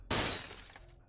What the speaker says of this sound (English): crashing the store window behind her